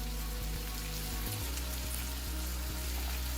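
Tomato puree lands on meat frying on a tawa, bringing a dense, steady sizzle with a brief thump as it is added, close and loud with no talk.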